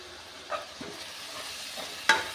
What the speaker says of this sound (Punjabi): ਕੜਛੀ ਦੇ ਨਾਲ ਚੰਗੀ ਤਰ੍ਹਾਂ ਕਰ ਦਾਂਗੇ ਮਿਕਸ